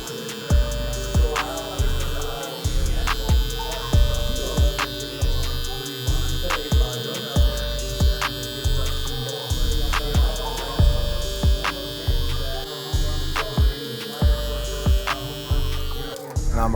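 A Stylecraft Flex electric clipper buzzes with a steady mains-like hum during a taper fade haircut, its drone pulsing in a regular rhythm of short strokes, close and fairly loud.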